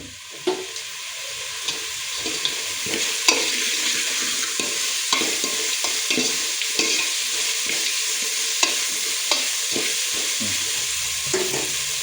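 Vegetable pulao ingredients fry over a high flame in a pan, a constant loud sizzle broken by frequent scraping stirs and clinks of a spoon, with no one talking.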